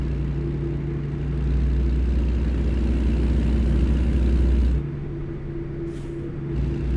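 Kenworth W900 truck in American Truck Simulator, a deep steady diesel drone rumbling loud and continuous, easing down briefly near the end before picking up again.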